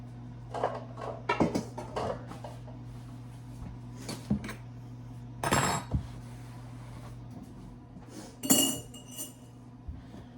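Dishes and cutlery clink and clatter while being washed in a home kitchen, with scattered bursts of knocking and scraping over a steady low hum, nobody talking.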